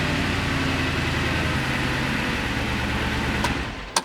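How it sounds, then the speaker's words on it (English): An Audi R8 idling with a misfire fault, its steady low engine drone running close and continuous for about four seconds, ending with a brief sharp knock. "If I sit there and leave the car idling"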